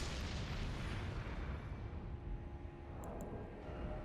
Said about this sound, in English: Let's try a regular fire pot tossed at this guy.